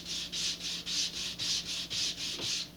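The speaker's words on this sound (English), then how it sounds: "I am going to just quickly sand the back of" A laser-cut part from a Rocketarium Gadfly model rocket kit being sanded by hand, about nine even back-and-forth rubbing strokes in a steady rhythm, close and clear with no speech.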